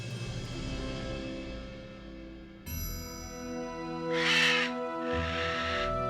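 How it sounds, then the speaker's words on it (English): A bird caws twice in the Nancy Drew: Ghost Dogs of Moon Lake video game, harsh calls standing out over a droning ambient score with a sudden musical shift midway. "Don't you make noises at me, you stupid bird."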